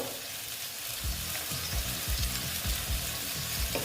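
Cumin and ground coriander frying in a pan, a soft continuous sizzle with irregular stirring scrapes and clatter running through, fairly quiet and close, no talk.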